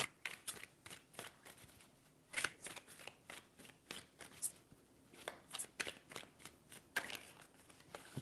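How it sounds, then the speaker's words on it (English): A deck of tarot cards is shuffled close up in quick, quiet riffling bursts, a rapid run of soft flicks and taps that repeats over several seconds. "3 shuffles."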